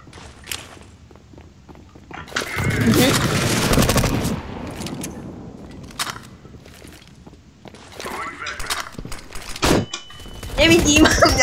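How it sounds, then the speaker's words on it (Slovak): Gunfire in the shooter video game CS:GO: bursts of automatic rifle fire and sharp shots, loud and close, mixed with footsteps and game effects, with quieter stretches between volleys. "Ja som randomne strieľal."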